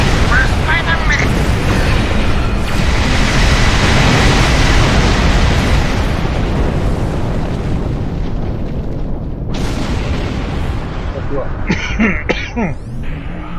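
Starship explosions in Star Trek Online rumble as a heavy, booming roar that builds and slowly fades, followed by sharper bursts and crackles near the end.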